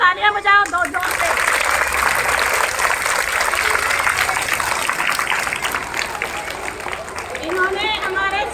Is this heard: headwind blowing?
no